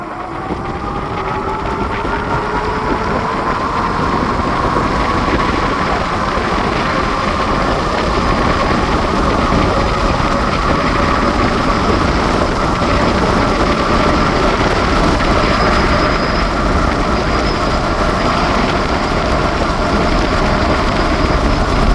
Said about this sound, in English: I'm just going to throttle until I can't throttle anymore.